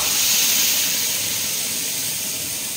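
A spice paste with bay leaf and whole cumin sizzles in a pan for a paneer dish, a loud, even, steady hiss from close by with no talking.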